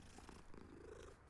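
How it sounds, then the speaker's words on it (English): A cat purring softly at low level, a steady continuous rumble lasting just over a second with no voices over it. "Oh, it's a cat!"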